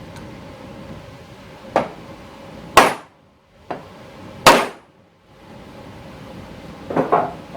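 A pump housing seal on a 1975 Chevrolet C20 is driven in with a block of wood. About five or six sharp knocks sound close and loud, spaced irregularly, with quiet gaps between them.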